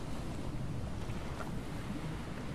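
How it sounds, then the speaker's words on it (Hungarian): Ocean waves in the survival game Stranded Deep, a steady rolling wash of surf with wind noise around a small boat, continuous and fairly loud throughout with no talking. "Ó, ez, ez a hullámzás, ez kemény."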